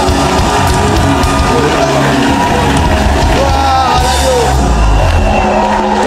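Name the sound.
church congregation cheering loudly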